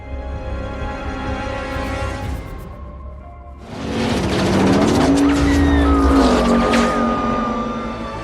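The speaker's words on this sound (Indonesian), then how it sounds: "Namun yang mengejutkan adalah cara yang digunakan oleh Dominic untuk melarikan diri, yaitu dengan menerjunkan mobilnya ke bawah tebing." A film car skids and plunges off a cliff: a steady engine hum gives way to a loud burst of revving and squealing tyres with a sliding, rising whine, close and intense.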